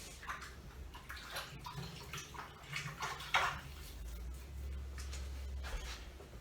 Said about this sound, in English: just rinse your hands off before you actually lift your sheet up